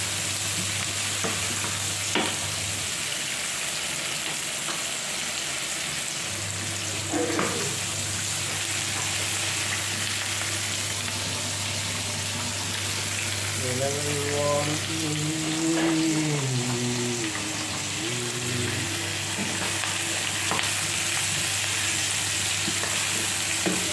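Onion, ginger, green chilli, garlic, cardamom, cloves, cinnamon and fennel seeds sauté in a pan for a potato curry, a steady close sizzle and crackle running throughout, with occasional stirring scrapes and a brief voice partway through.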